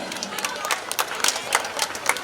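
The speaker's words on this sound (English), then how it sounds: "Please give them a big round of applause." Applause from a crowd at a school sports day, honouring the sports coaches: a steady wash of clapping with some cheering and chatter mixed in, moderately loud and continuous.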